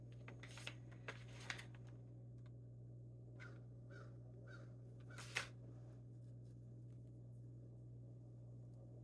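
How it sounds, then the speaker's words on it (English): Crows caw outdoors, loud and boisterous: a few short harsh calls in a spaced series at middle distance, mixed with sharp clicks and taps over a steady low hum. "Can you hear the crows? They are loud today."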